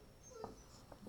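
Puppy whimpering softly indoors, a couple of brief thin whines separated by quiet pauses, faint and close.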